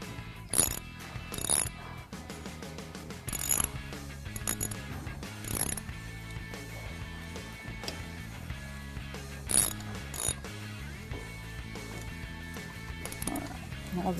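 A ratchet tightens the brake caliper bolts on a motorcycle. It gives repeated close clicking bursts in quick runs, spread through the stretch with short pauses between turns.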